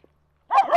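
A Finnish Spitz on a morning walk lets out a quick, close double bark after a brief silence, sharp and fairly loud.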